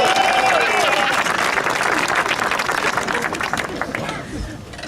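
A crowd at a mayoral candidacy announcement in East Orange applauds loudly, with lively clapping and some cheers and chatter mixed in that taper off toward the end.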